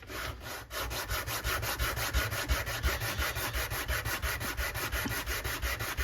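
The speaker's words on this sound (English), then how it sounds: "So let's see what sanding will do for this." Rhythmic back-and-forth scraping of sandpaper on wood with a hand block, sanding a vintage Johnson 524 level, quick even strokes repeating steadily for several seconds, close up with no talking.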